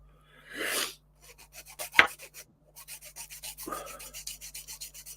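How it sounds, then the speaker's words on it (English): A hand file rasps against an Emhar Bedford OLBD 5-ton dropside truck model kit in quick, even back-and-forth strokes, close and clear, with a couple of brief breaths or bumps between runs. "I'm just doing a bit of filing."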